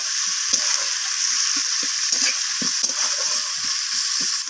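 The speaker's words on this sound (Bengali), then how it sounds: "পেঁয়াজটাকে আমি হালকা বাদামি রং ধরা পর্যন্ত পেঁয়াজটাকে আমি ভেজে নেব" Sliced onions fry in a pan toward light brown, a loud steady sizzle with occasional stirring scrapes and clicks, no voices.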